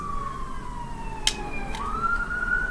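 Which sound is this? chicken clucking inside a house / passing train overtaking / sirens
sirens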